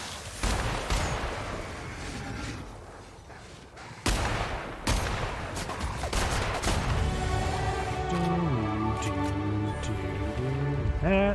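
A gun in The Outer Worlds video game fires in rapid bursts of close, loud shots, with pauses between volleys and a sustained stretch of fire near the end layered with ringing tonal effects.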